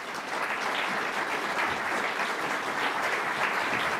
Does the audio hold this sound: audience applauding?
yes